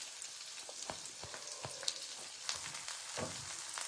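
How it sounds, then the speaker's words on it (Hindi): Kashmiri red chilli, salt and sambar masala dropped into a hot sizzling tempering, a bright continuous crackle with scattered spits and pops and a few low thuds throughout. "तड़के के बीच में डाल देंगे हम कश्मीरी लाल मिर्च और थोड़ा सा नमक और थोड़ा सा सांभर मसाला"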